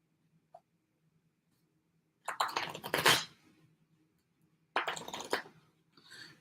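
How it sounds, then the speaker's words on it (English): A tarot card deck is shuffled by hand in two short bursts of riffling, crisp and close, separated by near silence. "we'll just shuffle."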